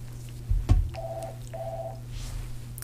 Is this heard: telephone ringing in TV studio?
yes